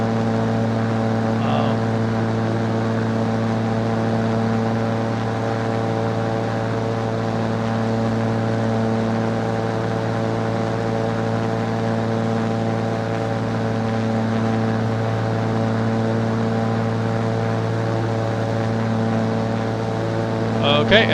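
Cessna CT210N propeller engine in Microsoft Flight Simulator 2024 droning steadily at cruise after the prop is pulled back, a loud, constant tonal hum with a faint voice briefly over it.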